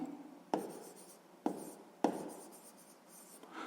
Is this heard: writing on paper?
yes